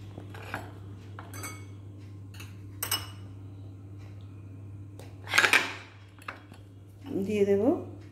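Dishes and cutlery clink while chopped onion is added to a bowl of egg cheese ball mixture, with a few sharp taps, a louder scrape or rattle midway, a final clatter and a steady low hum underneath.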